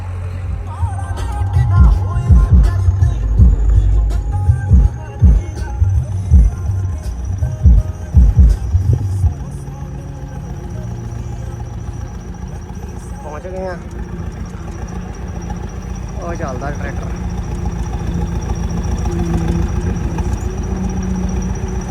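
A farm tractor engine, from a lineup including a Sonalika 60, Ford 3600 and Swaraj 855, runs in a wheat field after refuelling, a close steady diesel throb with heavy knocking early on, then a smoother idle-like drone.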